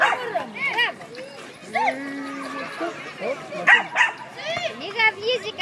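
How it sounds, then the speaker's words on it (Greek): A dog barks and yips in short bursts with some whimpering, close by, while someone speaks over and between the barks. "Μη γαβγίζει καλή μου"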